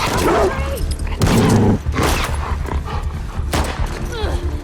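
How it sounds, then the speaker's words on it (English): Trained attack dogs of the WLF faction barking in The Last of Us Part 2, a few sharp close barks mixed with loud game combat noise and a voice. "they have trained dogs that will sniff and attack you"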